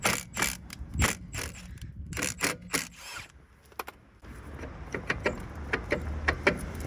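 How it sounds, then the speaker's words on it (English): Screws that hold the brake disc on a Kia Soul being undone with a tool, heard as close, rapid ratcheting and mechanical clicks in bursts with short pauses between. "let's set these two screws out that are holding the disc on"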